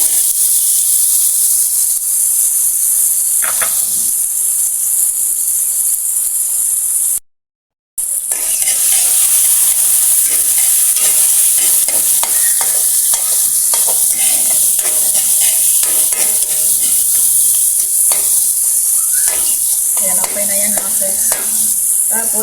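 Chopped tomato sautéed in a pan for ginisang ampalaya, sizzling in a loud, steady hiss with scraping and stirring clatters throughout, broken by one brief silence.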